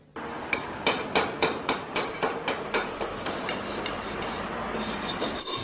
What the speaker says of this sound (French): Derrière son établi, il soude, il découpe, il tape avec son marteau.